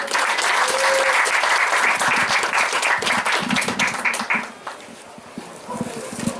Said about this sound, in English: a big round of applause to welcome him